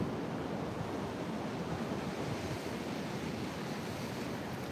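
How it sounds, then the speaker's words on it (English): Ocean waves break along a coastal wall, a steady loud roar of surf and rushing water with wind buffeting the microphone, continuous throughout with no voices. "When the swell gets really big, waves break along that wall there"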